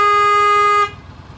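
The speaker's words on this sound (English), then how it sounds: "let's have a listen now at the new one" An aftermarket Daneli Sound Bomb Mini horn fitted to a Honda Crosstourer motorcycle blasts one loud, steady, bright tone for under a second, then cuts off abruptly to quiet background.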